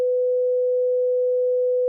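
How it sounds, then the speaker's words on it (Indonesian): A steady 500 Hz test tone plays from a phone or laptop speaker, one unbroken pure hum held at even loudness for the whole span with no other sound. "Ya, ini adalah frekuensi 500 Hz."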